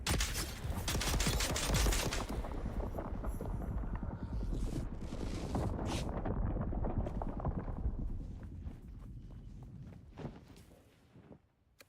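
Rapid gunfire bursts in the video game Dune Awakening, dense and loud through most of the span, blending into chaotic explosions and footsteps before thinning out near the end.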